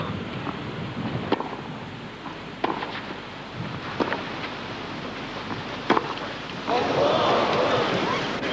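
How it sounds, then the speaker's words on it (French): Wind blows across an outdoor clay tennis court during a Roland Garros match, a steady rushing roar that swells near the end, broken by a few sharp thuds and distant voices. "le vent qui gêne McEnroe dans son lancer de balle"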